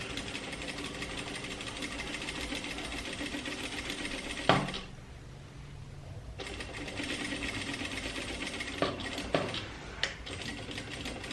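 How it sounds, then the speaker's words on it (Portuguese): A sewing machine stitches the dart seams of a trapeze dress in steady, fast mechanical runs, pausing briefly in the middle before resuming, with a few sharp clicks near the end. "agora eu vou levar a máquina de costura para fechá-las"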